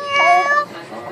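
A person imitates a cat with one drawn-out, nasal meow, loud and close, that fades into a softer tail.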